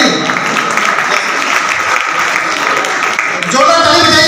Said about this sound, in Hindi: जोरदार ताली बजाइए सर, जोरदार ताली।